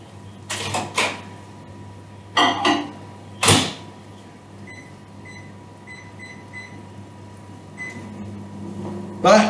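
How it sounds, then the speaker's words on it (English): A microwave oven hums steadily for about nine seconds, broken by several loud knocks and clunks of a door or cupboard and a few short beeps. "Ready to go, stick it in the microwave."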